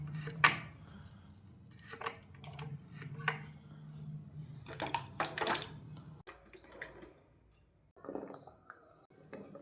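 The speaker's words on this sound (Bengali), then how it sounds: "এভাবে আমি সব ইঁচড়ের খোসাগুলা পরিষ্কার করে নেবো আর তা বাদে কেটে নেব।" A kitchen knife cuts through peeled raw jackfruit, making a series of irregular, soft chopping knocks. The cuts are fairly close but quiet, with faint wet, watery handling noises between them.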